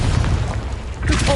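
A loud, sustained explosive burst from the Confringo fire spell in Hogwarts Legacy, booming and rumbling close up for the full length, with a short tonal flare near the end.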